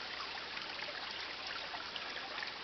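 A river flowing near Big Kedron Lake, a soft, steady hiss of moving water with no distinct splashes, faint and even from start to finish.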